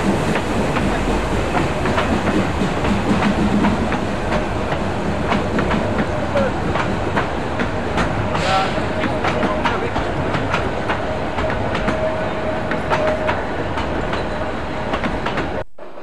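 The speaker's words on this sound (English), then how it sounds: "The climb is 1 in 25 with a severe curve and heavily loaded train," Harz Mountains steam train with five heavily loaded carriages climbing a steep 1 in 25 gradient on a sharp curve: a loud, continuous rumble with rhythmic wheel clatter and occasional squeal, with voices faintly underneath.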